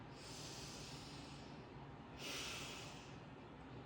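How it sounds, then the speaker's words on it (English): A slow nasal inhalation during a fascial maneuver exercise, head turned left and body right with the tongue in the cheek, heard close and breathy, swelling in a second stronger draw of air partway through, with no talk. "Breathe in."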